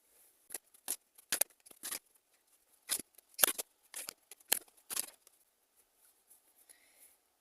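Tarot cards are shuffled close up in a quiet room. Soft, crisp riffling bursts come in quick irregular clusters and fade away toward the end.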